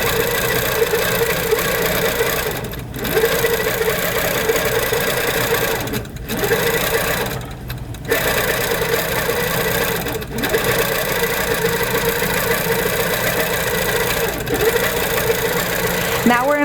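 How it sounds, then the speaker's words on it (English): An HQ Pro-Stitcher longarm quilting machine stitches an edge-to-edge row, a loud continuous mechanical hum and rapid needle chatter with a few brief dips where it slows. "it's going to move over there and it's going to just start stitching"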